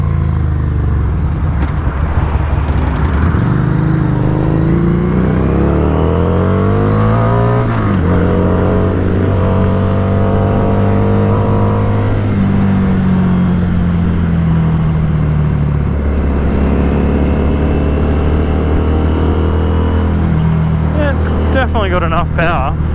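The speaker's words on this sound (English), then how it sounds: "Love the exhaust on this, sounds fantastic. Little cracks and pops on the overrun." A 2017 Harley-Davidson Street 500 motorcycle rumbles loudly throughout the ride, its engine and exhaust rising and falling through gear changes with crackles and pops on the overrun, heavy wind noise mixed in.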